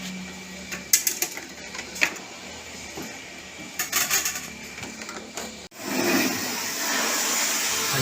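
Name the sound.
pressure washer washing air conditioner parts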